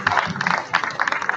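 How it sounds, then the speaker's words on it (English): Scattered applause from a graduation ceremony audience at an international school in Tokyo, uneven clapping with bursts and dips, with some crowd murmur mixed in. "We'll give him a round of applause."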